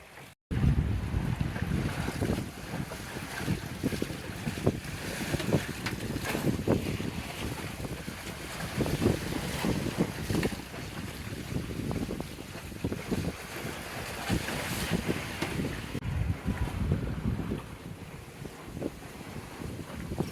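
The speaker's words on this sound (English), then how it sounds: "We are going fast downwind. Got the preventer on the main." A sailboat runs fast downwind offshore with the mainsail held by a preventer, wind buffeting loudly against the microphone over a constant rush of water and waves along the hull.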